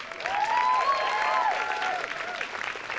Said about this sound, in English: we'll give them a round of applause as they leave the floor.